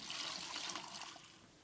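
Water pours into a stock pot for turkey gravy, a soft, steady splashing and gurgling stream that is fairly quiet and close, with no talking.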